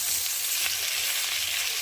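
Bhangor fish pieces frying in hot oil, giving a dense, steady, loud sizzle up close with no pauses and no voices.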